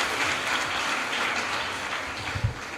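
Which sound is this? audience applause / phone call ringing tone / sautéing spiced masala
audience applause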